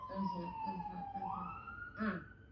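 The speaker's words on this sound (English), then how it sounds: "Hold for sirens." Emergency vehicle siren outside in Los Angeles, a faint wailing tone sweeping up and down in the distance while people talk over it indoors.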